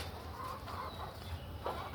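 Pigeons coo softly in a few low, rounded calls against a quiet background hum.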